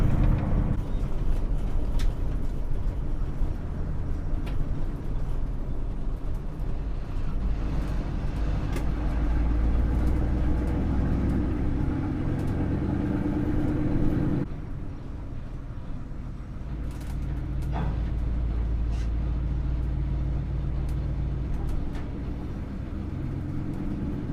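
A 1982 GMC Suburban with a 6.2 diesel engine and NV4500 transmission drives and turns, its engine droning steadily throughout. The drone eases and drops in level partway through, with occasional clicks and knocks and no talking.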